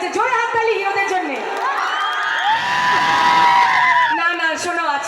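A crowd at a night stage show during a Jagaddhatri Puja celebration in Jamna cheers and shouts loudly, with whoops and excited voices swelling in the middle over a steady roar.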